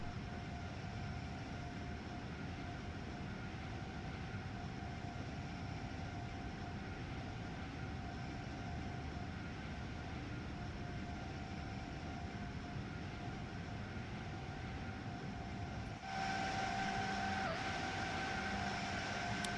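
A train accelerating in Train Sim World 3 on the New York to Trenton route gives a continuous, even drone with steady engine and rolling noise and a slight shift near the end, with no voices.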